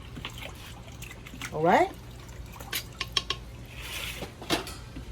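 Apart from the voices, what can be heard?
stirring crawfish boil pot with big spoon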